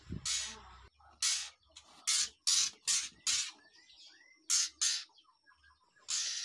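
White-rumped shama (murai batu) chicks chirp in a string of loud, close bursts, about ten short rapid begging calls with brief gaps between them, and no talking.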